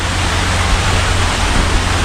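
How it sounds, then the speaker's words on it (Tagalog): Steady rain falls during a farm harvest, a dense, even hiss that holds without a break. It is loud and close, with a low rumble underneath. "Ulan eh."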